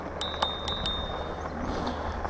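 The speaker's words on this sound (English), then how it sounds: "Got a little bell. Let people know you're coming up behind them." Bell on a Troxus Skyhopper e-bike, four quick bright rings in a row, close and clear, ringing out over faint road and riding noise.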